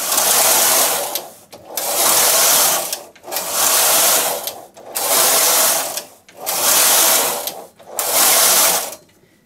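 A Singer knitting machine's lace carriage transfers stitches in five loud, evenly spaced passes, each a sustained mechanical whirring sweep with brief quiet gaps between.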